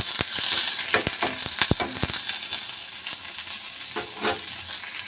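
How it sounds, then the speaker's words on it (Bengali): Potatoes frying in a pan in a home kitchen: a steady, close sizzle with scattered sharp crackles and light clinks of stirring throughout, with no talk. "ওটাই আলু মাখবো বলে আমি ভেজে নিচ্ছি"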